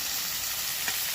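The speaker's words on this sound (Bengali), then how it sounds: "তো শুটকি মাছ সমস্ত কিছু ভাজা হচ্ছে" Dried fish and chopped tomato fry together in a pan, a continuous close sizzle with a brief stirring scrape near the end.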